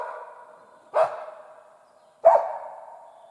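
A hunter's dog in the taiga barks twice, hesitantly, with about a second between the sharp, tonal barks, each fading into a ringing tail in a quiet forest.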